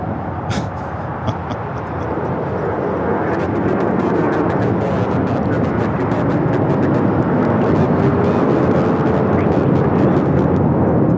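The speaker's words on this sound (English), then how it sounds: "That is American Airlines 1687 taking off to Dallas Fort Worth on the A321." American Airlines A321 taking off at LAX: a loud, dense jet engine roar that builds in the first two seconds, then holds as a heavy continuous rumble, close by, with no talking.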